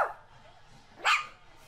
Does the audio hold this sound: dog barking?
yes